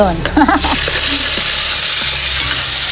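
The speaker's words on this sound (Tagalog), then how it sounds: "Isunod natin yung ating tawag dito, bombay at saka siling haba" Onion and long chili stir-frying in a pan give a loud, steady sizzle and hiss, with a brief scrape of stirring near the start and a faint voice under it early on.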